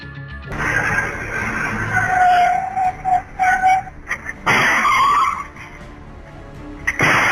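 Speeding car skidding and losing control on a road, a loud tire squeal rising and breaking into bursts, then a second screech near the end, close and harsh.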